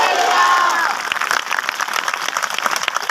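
A church congregation at a Christian meeting in Narayanpur breaks into applause. Dense, steady clapping and crowd noise fill the room, following a brief raised voice at the start.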